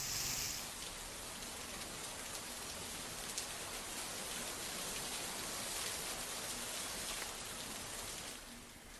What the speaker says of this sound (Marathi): समाधानकारक पाऊस पडतोय.